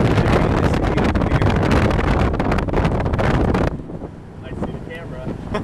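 Loud, steady wind buffets the microphone during a ride in a 1957 Chevy Bel Air, a dense rushing roar that cuts off abruptly near the end, leaving a quieter cabin rumble with faint voices.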